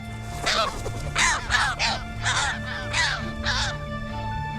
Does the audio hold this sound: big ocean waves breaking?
no